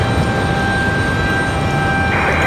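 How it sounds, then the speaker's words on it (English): A Republic Airways airliner departs Raleigh-Durham International Airport on a windy day, heard as a steady, continuous engine roar mixed with broadband wind noise and no voices. "Republic Airways 3471. That one's headed to Newark, New Jersey."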